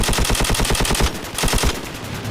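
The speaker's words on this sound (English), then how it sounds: "it's just the sound of that gun that it makes when you're firing it is just listen to this." A powerful automatic gun fires in rapid, continuous bursts during Call of Duty 4 free-for-all gameplay, loud and close, with a slight dip partway through and no talking.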